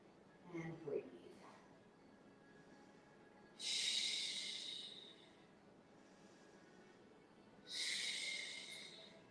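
Two long, audible breaths, drawn in and released during a yoga pose, come several seconds apart after a brief soft vocal sound near the start.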